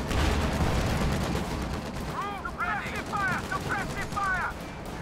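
Bursts of .50 cal machine gun fire crackle in a WWII strategy video game, loud rapid reports layered with other battle noise, with a voice talking over part of it.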